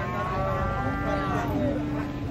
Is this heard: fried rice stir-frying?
no